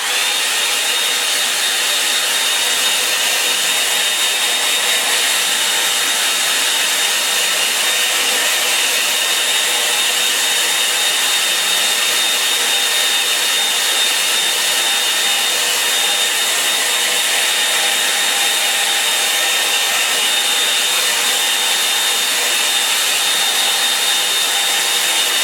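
A hair dryer blows steadily and loudly for the whole stretch, drying wet watercolour paint on a lake-and-tree painting, with a constant airy roar and a faint high whine and no voices.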